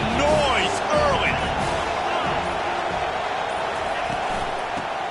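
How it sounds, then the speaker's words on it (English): A stadium crowd roars steadily at a USC vs Tennessee college football game, a dense continuous wash of noise with scattered shouts, while voices talk over it. "This crowd bringing the energy and noise early."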